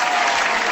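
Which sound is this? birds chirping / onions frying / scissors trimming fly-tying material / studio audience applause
studio audience applause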